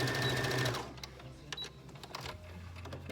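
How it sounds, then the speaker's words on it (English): A sewing machine runs a close top stitch on a fabric pencil bag, a short burst of fast mechanical whirring that stops within a second, followed by small handling clicks and rustles. "you're gonna do a very close top stitch"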